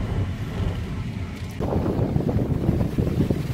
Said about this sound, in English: I'm gonna say it's just a little bit windy up here.